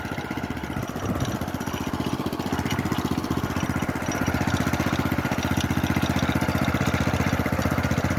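A walk-behind tractor running in reverse gear while hilling potatoes, its engine chugging in a steady, loud, close rhythm that holds throughout with no talk.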